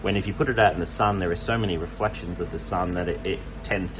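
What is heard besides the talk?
No distinct noise like a dog, phone or traffic.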